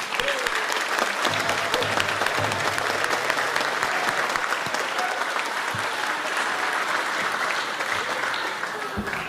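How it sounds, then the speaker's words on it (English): A large audience at a Native American graduate honoring ceremony applauds eighth grade volunteers, a dense, steady wash of clapping that holds for several seconds at full strength. "Please, a round of applause for our 8th grade volunteers tonight."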